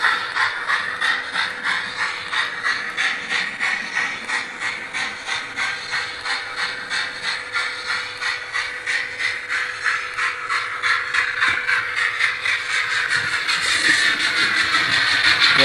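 Hornby TT:120 Easterner model train running slowly on loose, unsecured track, a steady rhythmic clicking of wheels over rail joints with a whirring motor hum, close and continuous, rising slightly toward the end.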